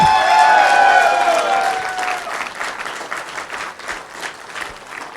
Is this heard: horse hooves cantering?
no